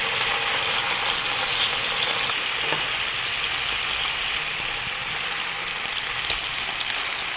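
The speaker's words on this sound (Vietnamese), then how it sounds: "Dầu hơi nóng thì mình cho cá vào chiên ngay." Fish sizzles steadily in a pan of moderately hot oil, with a constant dense hiss and crackle and a few faint clicks, close and even throughout, with no voices.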